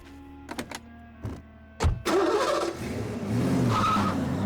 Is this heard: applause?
no